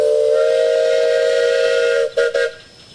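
A two-tone steam engine whistle blows at a parade, one loud sustained chord for about two seconds, then two short toots before it cuts off.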